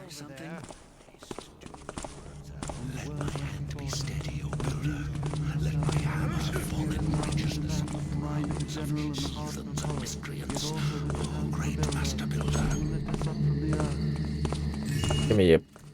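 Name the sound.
footsteps in a video game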